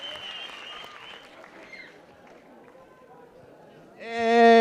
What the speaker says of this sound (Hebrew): אנחנו לא מתחילים עד שאתם לא מוחאים כפיים.